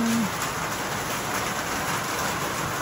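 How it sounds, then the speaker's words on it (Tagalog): Heavy downpour of rain falling outdoors, a dense, continuous hiss that stays loud and even throughout, with no voices. "patak ng ulan oh."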